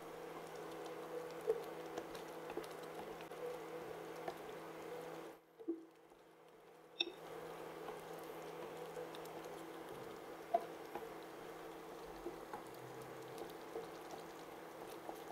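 Minced meat cooking in a pan for Greek pastitsio, seasoned with hot pepper flakes, gives a steady soft bubbling and light pattering, with a brief silent gap midway and no voices.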